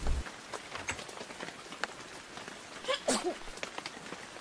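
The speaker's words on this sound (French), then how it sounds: "Il ne va donc jamais s'arrêter de pleuvoir." Rain falls in a French children's cartoon, a faint, steady patter with scattered sharper drops, and no voices over it.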